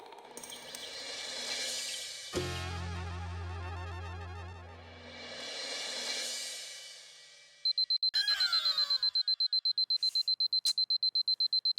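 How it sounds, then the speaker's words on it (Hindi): An alarm clock rings in the morning at home, a loud rapid repeating beep that starts after several seconds of music and keeps going to the end. "अलार्म बंद कर।"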